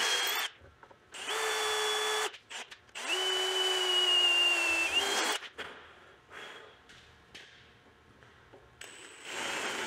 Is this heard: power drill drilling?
yes